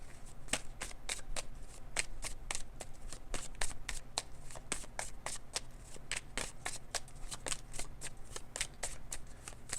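Tarot cards being shuffled in a steady run of quick riffling flicks, close and fairly quiet, continuing evenly for about ten seconds with no talking.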